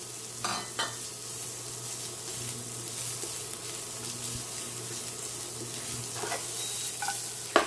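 Carrot and zucchini stir-frying in oil in a pan, a steady soft sizzle with occasional scraping clinks of a utensil stirring, fairly quiet and close.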